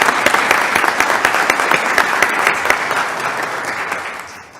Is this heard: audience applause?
yes